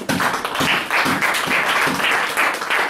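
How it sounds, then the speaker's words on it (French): A church congregation applauding in acclamation of the Lord, a brisk rhythmic burst of clapping that pulses in quick waves, loud and close across the room. "il y a acclamation pour le Seigneur"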